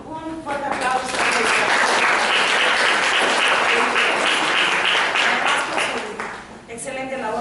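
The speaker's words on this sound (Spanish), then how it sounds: "Un fuerte aplauso." A loud, dense round of applause fills a hall at a reading, culture and literature event in Arequipa, sustained for several seconds, with a voice briefly audible at the very beginning and end.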